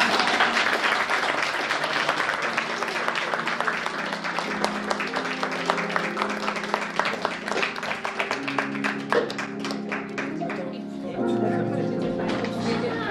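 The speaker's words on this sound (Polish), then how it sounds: "Brawa dla nas." Audience applause at the close of a performance of The Little Match Girl, sustained clapping that thins into distinct individual claps, with voices talking over the end.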